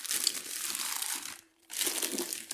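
A plastic mailing bag holding new football boots is torn open and handled, giving close, continuous crinkling and rustling that stops briefly for a moment of near silence before resuming.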